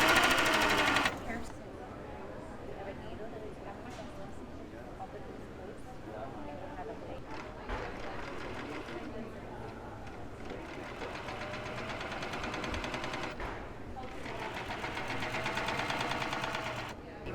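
Special sewing machine stitching small Barbie doll clothes, a steady mechanical whir that swells and fades in passes through most of the stretch, with voices talking over it.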